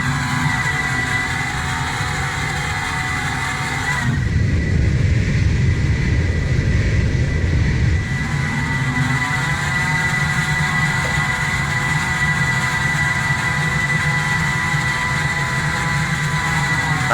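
Southwest Boeing 737-800 taking off in the Roblox game Flightline: a steady, loud engine whine and hum, swelling into a deeper rumbling roar for several seconds mid-clip before settling back to a constant drone, no talking.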